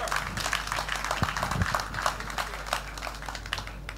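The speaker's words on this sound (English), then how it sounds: "That's a great time to clap." A church congregation applauding during a sermon, a dense steady patter of many hands clapping at a moderate distance, continuing throughout with a few sharper claps.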